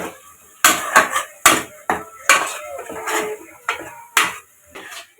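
A spoon stirs ginger garlic paste in a metal cooking pot on a raised flame, giving about ten sharp clanks and scrapes in an uneven rhythm, loud and close with no talk.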